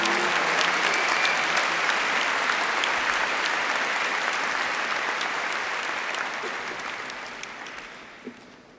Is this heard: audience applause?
yes